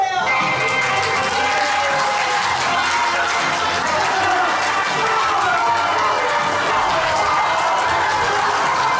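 Loud, continuous crowd applause mixed with cheering, welcoming mothers onto the stage at a church sports event, sustained at an even level throughout.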